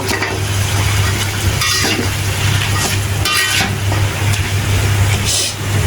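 Malabar spinach goes into a pan of fish, giving a loud, close sizzling stir-fry with scraping strokes and bursts of hiss over a steady low hum.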